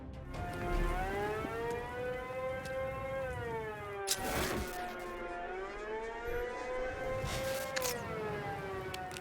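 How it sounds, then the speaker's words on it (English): A distorted police siren in the Batman: Arkham Knight video game wails from a distance, rising and falling in slow, warbling sweeps, with a couple of sharp bursts of noise cutting across it. "a distortion he's created to their police sirens that we can hear from a distance to pinpoint their location"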